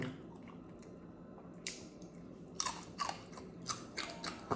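Crispy fried pork belly crackles under the teeth in close, quiet bites, a few sharp crunches spaced through a soft chewing background.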